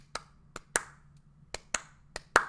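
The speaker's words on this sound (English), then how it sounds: "a clap track, some type of clap track in a lot of more popular songs" A sparse clap track in a pop-rock song, with sharp, isolated claps landing at irregular intervals over a faint, low sustained hum.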